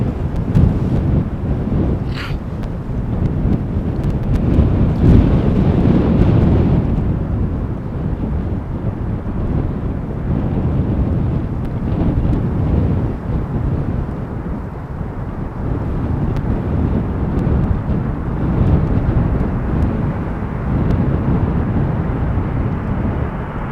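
A four-year-old Boeing 787-9 Dreamliner arrives on runway 18R at Amsterdam Schiphol in gusty crosswind, a steady broad jet roar mixed with wind buffeting on the microphone, loud and continuous throughout with no talking.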